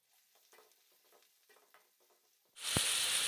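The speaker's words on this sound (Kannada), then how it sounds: "ಈಗ ಎಣ್ಣೆ ಕಾದಿದೆ, ಈರುಳ್ಳಿ ಸೇರಿಸ್ಕೊಳ್ತಾ ಇದ್ದೀನಿ." Onion drops into hot oil in a pan for egg Maggi, a sudden loud burst of sizzling after quiet small clinks, then a steady crackling fry.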